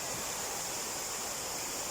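A waterfall roars as a steady, unbroken rush of white noise at a summer swimming spot, with no voices.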